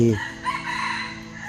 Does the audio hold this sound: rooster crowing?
yes